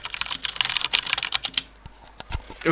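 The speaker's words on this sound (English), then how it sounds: "I was typing to someone." Fingers type on a computer keyboard with a fast, dense clatter of key clicks for the first half, then slow to scattered single taps and a final louder clack, close and clear with no talking.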